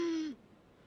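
A single short voice imitation of stridor, the noisy breathing-in sound that can occur in children with a cough: a high, strained hooting inhalation that cuts off abruptly.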